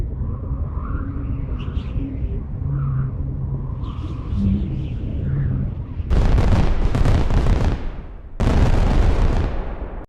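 Rapid machine-gun-like bursts and crackling, firework-style pops burst in loudly at two points after a stretch of low rumbling, echoing effects, dense and harsh, with a brief gap between the two blasts.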